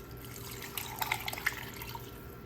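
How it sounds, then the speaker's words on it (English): Water trickles and splashes into a soup pot of turkey, sweet potato and kale, with a few brighter drips and splats in the middle, fairly quiet and close, no talking. "I'm going to get about 2 cups of water and add that in."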